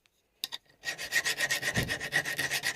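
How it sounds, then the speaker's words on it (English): Hand file rasping across a cast metal part of a Footprint No. 5 hand plane: two short strokes, then a continuous run of quick, rhythmic scraping strokes as the file skids over the hard surface, close and alone. "try to keep the reference by filing this way."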